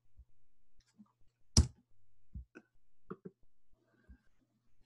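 A few soft, sharp mouse clicks on a computer, brief and isolated, with one stronger click near the middle among faint low bumps and quiet gaps.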